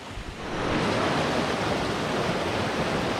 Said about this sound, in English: It's like waterfall, rivers flowing into rivers and rivers flowing into rivers.